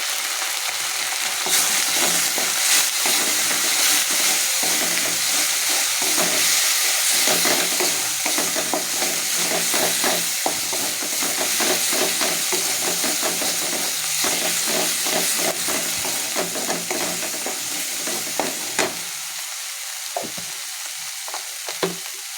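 Spices (turmeric, salt and Kashmiri chili powder) frying in oil in a pan: a steady, close sizzle with frequent stirring scrapes for about twenty seconds, easing quieter near the end.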